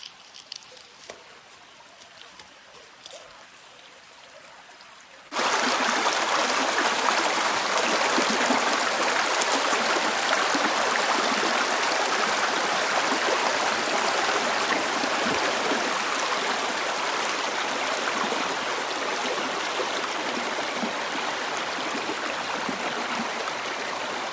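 Creek water rushes steadily beside a Big Sur campground after a quiet opening of a few seconds, then a loud, constant broadband flow continues to the end with no talking.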